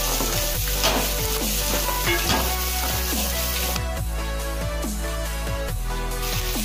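Corn and boiled peas fry in a pan, a dense steady sizzle with repeated stirring scrapes and clinks of a utensil against the pan, close and continuous.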